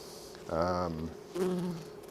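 Bees buzzing inside a crowded beehive with every frame packed, faint low drone with two louder close buzzing passes as individual bees fly near.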